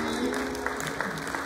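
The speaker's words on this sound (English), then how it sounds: "And give God a hand clap of praise." Church congregation clapping hands in praise during a service, a steady dense patter filling the room with voices mixed in underneath.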